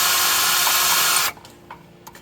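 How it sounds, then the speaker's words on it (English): A power drill fitted with worn, dull bits grinds loudly and steadily into material for over a second, then stops abruptly, leaving a quiet workshop with a few small knocks. "These are not very good anyway, these drill bits."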